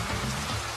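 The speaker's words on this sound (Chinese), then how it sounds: "此刻这个亚马逊雨林里面下起了雨啊" Heavy rain pouring in the Amazon rainforest, a dense, even hiss of drops hitting leaves and surfaces, loud and constant through the brief moment, with no voices.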